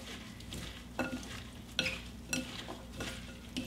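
Chopped vegetables for a quinoa salad are tossed in a bowl with a utensil, making soft rustling and a few sharp clicks of utensil against bowl at uneven intervals. The sound is faint and close, with no voices.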